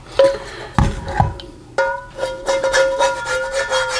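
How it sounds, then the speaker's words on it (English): Scraper tool rubbing and scraping around the sides of a cast iron pan, with gritty, uneven strokes and a few knocking scrapes near the start, steady and close. "You just want to scrape the sides"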